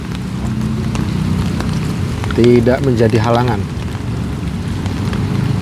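Heavy storm rain pours steadily during outdoor training near an airport, a continuous hiss under someone talking throughout.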